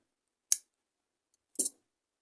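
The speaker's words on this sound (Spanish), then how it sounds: "cortamos nuestra hebra" Two sharp snips from scissors cutting yarn during amigurumi crochet, about a second apart and close up in a silent room.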